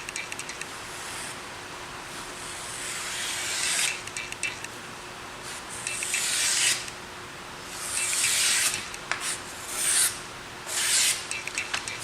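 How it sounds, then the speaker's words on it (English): A file rasps along the edge of a large hand-forged Norwegian broad hewing axe in several separate bursts of gritty strokes, close and fairly loud, with quiet pauses between them and no talking. "So I've gone on and I've sharpened both of these axes now."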